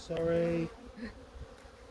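Honeybees at an open beehive give a brief, close buzz that fades after under a second into quiet background, with no voices.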